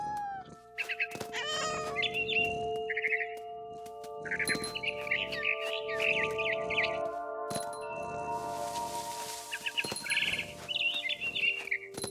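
A cat meows repeatedly in the video game What Remains of Edith Finch, several distinct close mews and cries spread across the scene, mixed with faint bird chirps over a steady musical drone.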